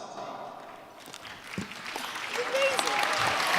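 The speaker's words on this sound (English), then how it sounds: "go back to your seat with this big round of applause" Scattered claps grow into a building round of applause from a small audience, getting louder toward the end.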